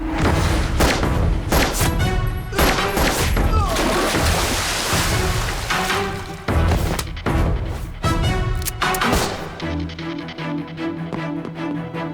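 Gunfire in a Hindi-dubbed action film fight scene from iSmart Shankar, heard as loud, dense booms and bursts over a full, continuous soundtrack mix with music and effects throughout.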